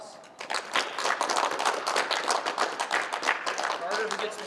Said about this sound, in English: Let's give Zach another round of applause.